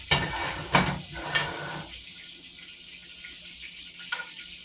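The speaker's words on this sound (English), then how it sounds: "this is entirely too much oil for to cook the liver in" Liver frying in too much oil in a home kitchen, a soft steady sizzle with a few sharp pops and clatters near the start, then a quieter, even crackle.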